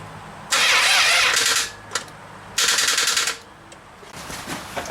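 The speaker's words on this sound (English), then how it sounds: "I haven't charged the battery, so the starter might not turn." Starter cranks the engine of a 2000 Chrysler 300M on a weak battery in two loud, close bursts of about a second each, separated by a pause, with clicks and a faint whir afterward.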